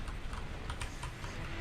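Rapid typing on an Ergodox EZ, an ergonomic programmable keyboard: a close, steady run of crisp key clicks and thumps with no voices.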